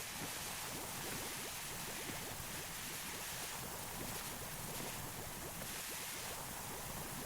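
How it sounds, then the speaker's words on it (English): A pressure washer spraying in the PowerWash Simulator 2 video game, a steady, even hiss of jetting water that runs the whole time without pause and stays fairly faint. "Let's spray this down."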